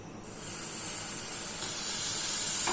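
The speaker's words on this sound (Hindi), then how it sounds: "बस ये बॉयल आ गया" Milk heating in a pot for homemade dahi gives off a steady hiss as it comes to a boil. The sound swells quickly after a brief quiet start and then holds continuous and fairly close.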